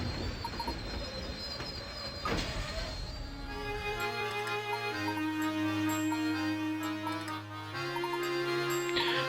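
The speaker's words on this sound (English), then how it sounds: "for some reason this train had to stop" A train in the Professor Layton and the Diabolical Box video game slows to a halt, with a clattering rumble giving way to sustained tones and a soft looping game soundtrack.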